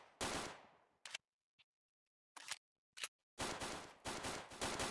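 Loud bursts of rapid gunfire alternate with short single shots and brief silences, sounding like close-range shooting in the video game Special Forces Group 2.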